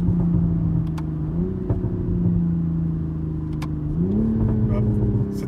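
A Toyota Supra MKV GR Launch Edition engine hums at a steady mid-pitched drone, then steps up in pitch twice as it pulls toward 4,000 RPM, loud and close with light clicks over it.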